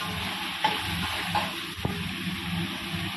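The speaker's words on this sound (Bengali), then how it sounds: "প্রনগুলো তো খুব বেশি ভাজবো না" Prawns sautéing briefly in a pan for egg and prawn fried rice, a steady broadband sizzle throughout with a few soft scrapes and knocks of a spatula, close and moderately loud, no voices.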